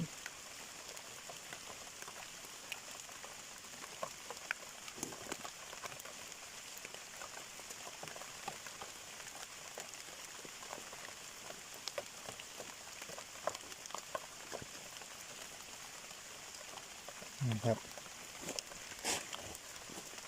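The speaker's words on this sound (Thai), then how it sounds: "ฝนกับกำลังตกห้ำเห็ดก็ออกงามๆครับ" Steady rain falls through a forest where mushrooms are being gathered, a soft continuous patter on leaves and ground with occasional louder drops, fairly distant and even throughout, with a brief rustle or movement near the end.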